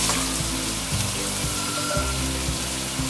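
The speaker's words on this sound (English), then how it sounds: "Cook the vegetables for 2 to 3 minutes on a high heat." Carrot and capsicum sizzle steadily in a pan over high heat for a Schezwan noodle stir-fry, with a dense continuous frying hiss and a few brief low knocks or shifts, close and fairly loud with no talking.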